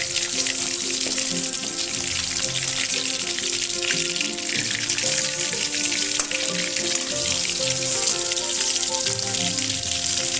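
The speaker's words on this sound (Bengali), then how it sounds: "এবার এদিকটা আমি ভেজে নেব। এইভাবে আমি বাকি মাছগুলো ভেজে তুলে নেব।" Phali fish fillets frying in a pan, a steady dense sizzle and crackle of hot oil running evenly throughout, close and fairly loud with no talk.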